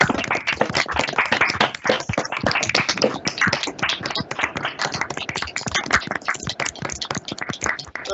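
Steady, continuous audience applause after a university lecture, a dense wash of many hands clapping at an even level throughout, slightly thin and distant-sounding.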